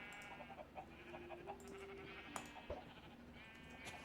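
Sheep bleat in a farm survival video game, several short bleats over a quiet, steady background hum with faint game sounds.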